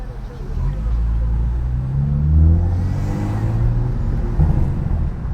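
A 700 hp BMW F80 M3 running on E85 with a loud exhaust drones and revs close by, its engine tone rising and swelling mid-pull before settling, with people talking faintly underneath.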